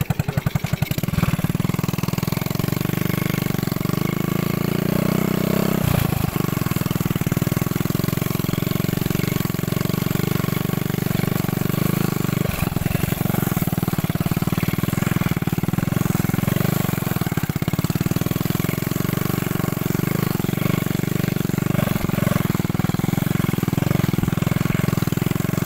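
A mini trail motorcycle engine runs steadily throughout a ride on muddy ground in second gear, a loud, continuous, rough drone with a few brief bumps and surges and no talk.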